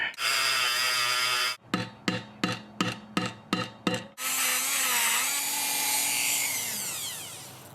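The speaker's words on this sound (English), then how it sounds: "I'm trying to Dremel out a notch in the retaining pin or the snap ring pin" A Dremel rotary tool grinding a notch into a metal snap ring, loud and close: a sustained high whine, then a rapid series of short bursts as the tool is pulsed, then another long continuous grind that slowly winds down.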